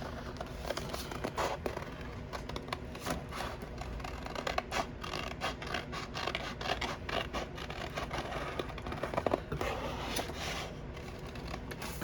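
Scissors snip through paper while a holster pattern is cut out, a continuous run of dense, scratchy crunching and rubbing sounds, close and fairly quiet, with no voice over it.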